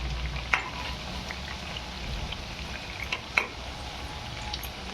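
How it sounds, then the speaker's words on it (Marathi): Colocasia leaf wadi, patra aalu vadi, deep frying in hot oil, giving a soft steady sizzle and crackle with a few sharper pops, close and fairly quiet with no talking. "असं तळायची."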